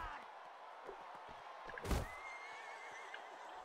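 A horse neighs in the Mount & Blade video game, a faint whinny that rises briefly out of quiet battle noise near the middle, with scattered thuds around it.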